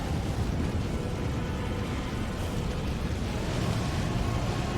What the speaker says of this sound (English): A series of explosions is chasing me.